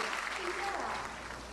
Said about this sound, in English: give a grand round of applause to Miss Rachel Tilakse to present the valedictorian speech